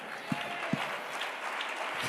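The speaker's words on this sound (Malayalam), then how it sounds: "കൈയടിക്കണം." A church congregation claps during a Pentecostal worship service, a steady wash of applause with a couple of sharp low thumps near the start, moderately distant and fairly quiet.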